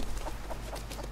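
A chicken in the survival video game Rust clucks in soft repeated bursts over a constant low game background hum, fairly faint and without talk.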